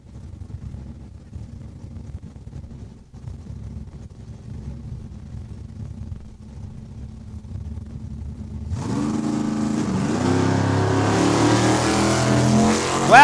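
At a Saskatchewan International Raceway drag race, a Chevy Vega and a convertible Mustang idle low and distant, then roar up loud as they accelerate off the line, engines building steadily through the final seconds.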